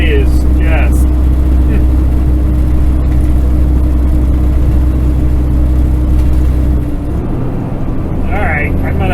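A vehicle engine drones steadily in gear while pulling uphill on a mountain highway in the Bighorn Mountains on a hot day, a loud, continuous low rumble that shifts in tone near the end.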